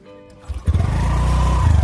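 Motorcycle engine at a riverside boat crossing on the Damodar River, starting up after a few low thuds and then running in a loud, steady idle close by, with no talking.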